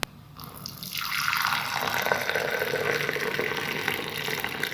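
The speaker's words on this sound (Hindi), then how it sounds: "अब हम चाय को कप में ऐड करेंगे।" Hot ginger and fennel tea poured into cups, a steady liquid stream splashing close by and continuous for several seconds after a brief click, with no talking.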